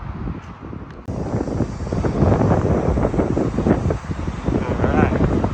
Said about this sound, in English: All right, it's very windy.